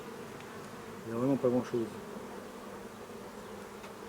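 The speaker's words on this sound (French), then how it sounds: "Bon, il y a beaucoup d'abeilles d'accord" Honeybees hum around an opened hive during an inspection, a continuous low buzz with a few louder swells as bees fly close, and a voice speaking briefly.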